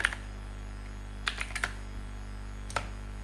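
A few soft keystrokes on a computer keyboard, one at the start, a small cluster in the middle and one near the end, faint over a steady low hum.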